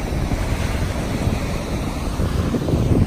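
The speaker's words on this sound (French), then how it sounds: "Regardez pas ces vagues." Ocean waves wash onto a beach at low tide, a constant broad roar of surf mixed with wind buffeting the microphone, steady and fairly loud with no talk.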